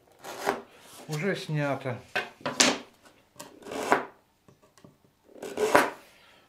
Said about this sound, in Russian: Наждачка здесь такая покрупнее, 16-я.